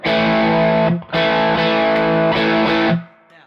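An electric guitar with its tone control in circuit rings out in two long sustained chords, the second following a brief pause. The tone is loud, bright and slightly driven, and it fades to near silence.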